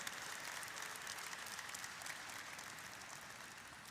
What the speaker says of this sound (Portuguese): Até as palmas foram fracas